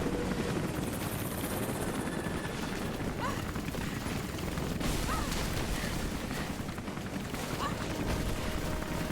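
A helicopter in the video game Rise of the Tomb Raider throbs with a loud, continuous rotor roar, joined by bursts of gunfire and booms under game noise.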